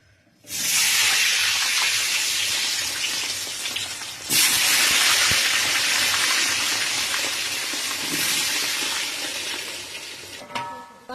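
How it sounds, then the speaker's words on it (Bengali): Potato pieces drop into hot oil left from frying fish, bursting into a loud, close, broadband sizzle that surges again midway as more go in, then settles into a steady hissing fry. "মাছ ভাজা তেলের ভিতরে আমি মাছের ঝোলের আলুটা ভেজে নেব।"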